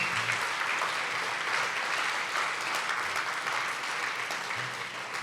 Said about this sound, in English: can we, a round of applause for you guys.